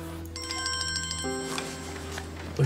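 A telephone rings with a steady electronic ringtone of repeated tones, alone and fairly faint in a quiet room.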